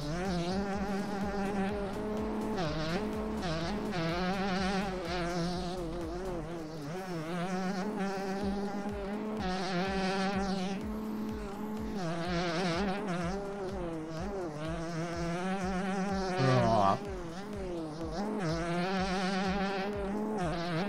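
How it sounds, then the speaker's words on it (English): Two-stroke motocross bike engine in the MX Bikes video game, a high buzzing whine rising and falling through revs and gear changes, loud and continuous throughout. "Nothing better than a 2-stroke on the putt"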